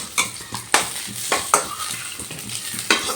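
Fried pointed gourd is scooped out of hot oil in a pan: rhythmic scraping and clinking strokes of a utensil over a bright, steady sizzle, close and clear.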